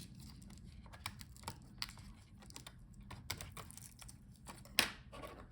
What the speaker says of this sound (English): pulling out the motherboard, so disconnect all the remaining connectors, the keyboard, and the video cable